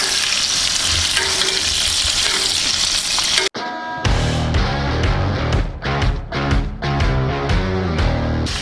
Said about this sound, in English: Now we're gonna take the Finex and do the same thing, tilt it down, and we're just gonna simply baste our steak